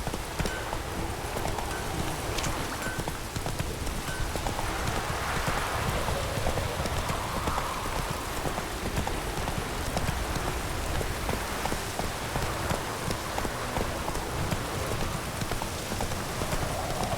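Galloping horse hooves in The Witcher 3, a steady rapid clatter mixed with rain falling on the ground, continuous and fairly loud throughout.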